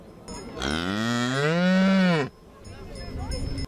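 A single loud, close moo from an Aubrac cow, a long drawn-out call of about two seconds that rises and then falls before cutting off, with quieter background noise around it.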